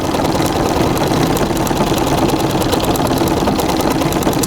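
A treadle sewing machine stitches a full-sized quilt with 40 weight white cotton thread, giving a steady, loud mechanical whirring and rapid rhythmic clatter that runs continuously and close up, with no talking.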